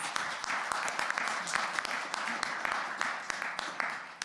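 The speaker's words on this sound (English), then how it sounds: "Let's give another round of applause to the student presentations." Audience applause at a democracy and money forum for student presentations, a continuous, fairly even round of clapping with a few sharp individual claps standing out, voices faintly underneath.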